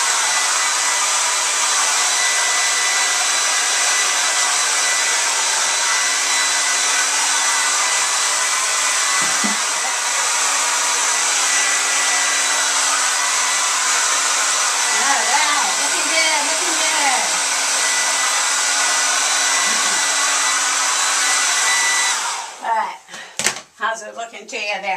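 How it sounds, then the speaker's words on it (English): A hair dryer blow-drying hair after a Farrah Fawcett-style haircut runs as a loud, steady whooshing roar for most of the clip. Faint voices sit underneath before it cuts off with handling clatter near the end. "let's get you blow dry."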